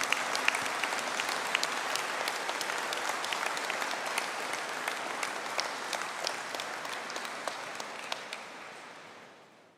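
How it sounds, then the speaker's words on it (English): Sustained applause from a large audience at a university conferring ceremony for Master of Science in Software Design and Artificial Intelligence graduates, dense steady clapping with no voices, gradually fading toward the end. "Could I ask for a collective round of applause for the graduates of the Master of Science in Software Design and Artificial Intelligence?"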